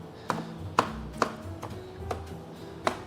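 Knife chopping cilantro on a cutting board, six or seven sharp, separate taps at an uneven pace, close and fairly quiet, with no talk.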